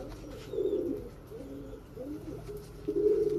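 A female lemon-coloured Akbaş pigeon gives soft, low, rolling coos in several short bursts, close and moderately quiet, with a faint background hush.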